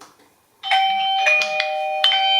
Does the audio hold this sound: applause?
no